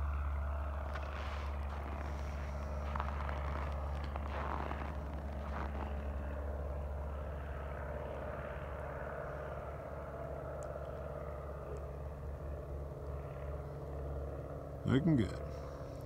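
A small propeller airplane climbs out on a student pilot's first solo flight, its steady engine drone holding at moderate distance throughout, with a brief louder burst near the end and a voice speaking briefly over it.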